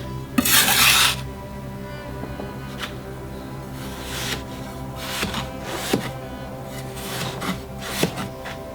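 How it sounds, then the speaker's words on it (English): A large sculpting tool carving fine sand into bigger shapes, moving lots of it at once: rough scraping strokes, one long loud scrape first, then a series of shorter rasps at irregular intervals. "I'm using one of these bigger tools to carve the bigger shapes and move lots of sand all at once."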